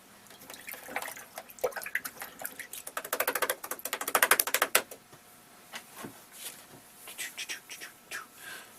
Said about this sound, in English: Now, I'm going to rinse off the brush.